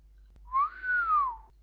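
A single low, prolonged whistle by a person, rising then sliding slowly downward and holding for about a second, clear and close in an otherwise quiet room.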